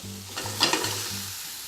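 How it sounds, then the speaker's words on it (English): Almond flour and all-purpose flour are mixed together in a bowl, giving brief close scraping strokes with no talk over them. "Now I'm just going to start mixing these together."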